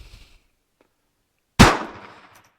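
A single sharp gunshot from a Ruby .32 ACP pistol cracks after a quiet pause, loud and close, with a short decaying tail and no talk.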